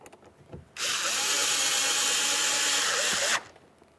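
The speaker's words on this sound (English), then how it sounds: "We have our larger Phillips head mounting screw. Start it in, snug it up." Power screwdriver driving a large Phillips head mounting screw into the door panel of a 2012-2015 Honda Civic: one loud, close, steady whir lasting under three seconds, with quiet handling noises before and after.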